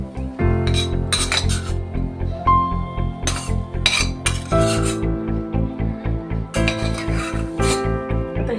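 Roasted food for a bhogi vegetable dish is scooped onto a plate with a metal spoon, giving repeated clinks and scrapes of utensils on dishes over a steady low background hum.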